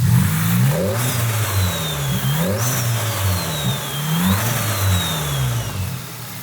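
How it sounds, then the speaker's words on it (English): A Volkswagen Golf R engine with a new bigger turbo, cold air intake and upgraded exhaust revs up loudly, rising and falling in repeated pulses, while a thin high whine sweeps up and down as the turbo spools. "you can hear that turbo just kind of spooling up"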